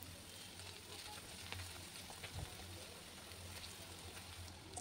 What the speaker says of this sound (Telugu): ఇందులోకి పొడవుగా కట్ చేసుకున్న క్యాప్సికమ్ కూడా యాడ్ చేసుకొని వీటిని ఆయిల్లో కొద్దిపాటి వరకు మగ్గనిచ్చాలండి